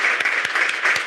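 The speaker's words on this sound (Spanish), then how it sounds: "damos un gran aplauso entonces a la respuesta de los" A short burst of clapping for presenters at an educational research student panel, fairly close and steady with a few sharper individual claps.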